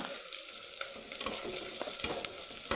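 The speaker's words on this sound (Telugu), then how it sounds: "ఇప్పుడు ఎర్రగడ్డ వేసేస్తున్నాను వేగం వేగుతుంది" Chopped onions sizzle and fry in a hot pan, a steady crackling hiss with occasional stirring scrapes, close and alone without speech.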